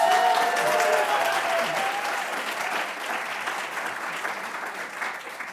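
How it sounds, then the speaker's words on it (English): Conference audience at a conscious eating event gives sustained applause, steady, dense clapping from many hands that fades slightly over several seconds, with no one talking over it. "let's give Hope a huge round of applause"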